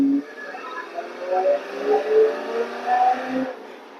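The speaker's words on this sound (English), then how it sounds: "Very rare you hear American muscle V8s over here in Ireland." A Ford Mustang's American V8 engine with its exhaust valves revs in repeated swelling pulses, loud and close, rising and falling over a few seconds before cutting off.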